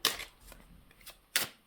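Tarot cards drawn and slid from a deck, two soft papery riffles a second apart, quiet and close with no voices.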